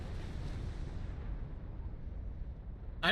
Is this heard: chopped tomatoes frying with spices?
no